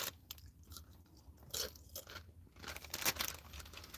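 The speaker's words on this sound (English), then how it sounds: "That saltine cracker." Someone crunches on a saltine cracker close to the mic, with repeated dry crisp bites and chewing crackles over a low background hum, and no one talks.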